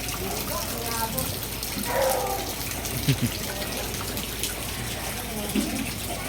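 Water runs steadily into a container, a continuous splashing gush with faint voices and clatter in the background.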